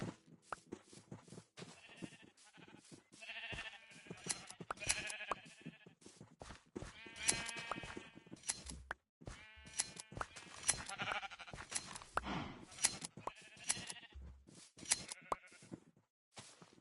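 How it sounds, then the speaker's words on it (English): Many sheep in Minecraft bleat over and over, their overlapping calls coming in uneven bursts, some close and loud, others quieter, with no voices. "there are a lot of blue sheep here. They do make a lot of noise though"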